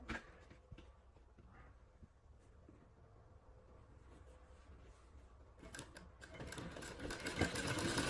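A sewing machine stitches fabric for kachhera undergarments, running faintly at first and then whirring loudly and steadily in the last few seconds.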